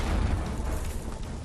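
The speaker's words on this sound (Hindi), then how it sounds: "फिर जैसे ही बीप की आवाज खामोश होती है, अचानक धमाका होता है।" A loud, sustained explosive roar from a pager blast in Lebanon, with dense broadband rumble and crackle filling the whole moment, no voices heard.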